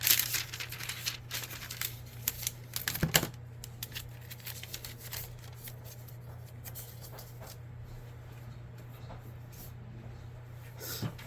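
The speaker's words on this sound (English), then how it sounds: "let me tape this up." Tape is pulled from a roll and pressed onto a wooden craft piece, with a close crinkling rip at the start and more near three seconds, then faint rustles over a low steady hum.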